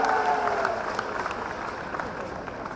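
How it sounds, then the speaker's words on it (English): An audience at an HR conclave panel discussion at Yashoda Group of Institutes, Satara, gives a round of applause: fairly quiet, steady crowd clapping that fades slightly, with a voice speaking over it at the start. "a big round of applause to Yashoda Institute for organizing this fantastic platform"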